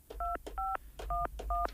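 Touch-tone phone being dialed, four separate dual-tone beeps in a steady, unhurried rhythm, close and clear with a low hum underneath and no talking.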